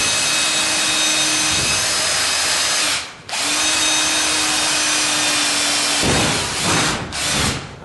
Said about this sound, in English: So I'm just going to drill a hole in here first